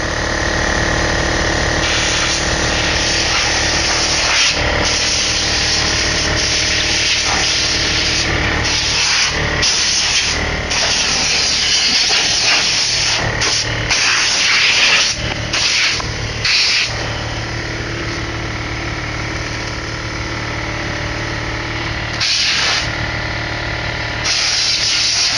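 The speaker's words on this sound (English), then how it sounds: "then we'll take a compressor to it" Compressed air blasts debris out of an old vintage Chevy II Nova drag car, a loud sustained hiss and rush with brief breaks and changes in pressure, a compressor humming beneath throughout.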